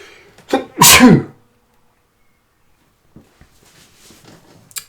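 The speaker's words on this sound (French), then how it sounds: "je vais éternuer" A single loud, close human sneeze, a sharp in-breath bursting into an explosive exhale, followed by a short silence and then quiet speech.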